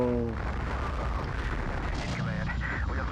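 A spaceship is blown apart by two strike cannons in the Colony Wars video game, a heavy rumbling explosion that fills the clip at steady loudness, with a faint voice near the end.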